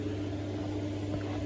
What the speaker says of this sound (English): it's heating up in the microwave